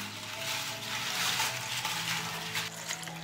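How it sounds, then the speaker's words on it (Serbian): Water pours steadily from close by into a cooking pot holding onion skins, a continuous splashing trickle that carries through the whole moment without talk. "Sipat ću vodu u šerpu."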